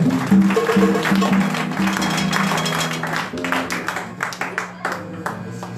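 A church congregation claps along during French-language worship, rhythmic clapping over sustained music and singing, growing into sharper, scattered claps toward the end.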